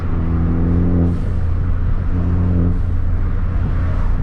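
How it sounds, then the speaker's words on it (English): A Ford Focus ST heard from inside with the windows down, engine and road rumble building under acceleration, with two short soft whooshing releases from the modified blow-off valve as the throttle lifts. "see if you guys can hear how quiet the blow-off valve is"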